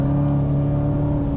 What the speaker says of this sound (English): the exhaust opens up to a whole new tone, and you hear the supercharger whine